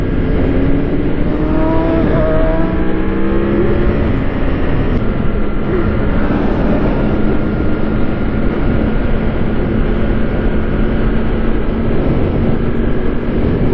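A motorcycle engine drones and revs loudly and steadily throughout, with rising and falling pitch sweeps early on as riders pull wheelies and bring the bike down hard on the seat.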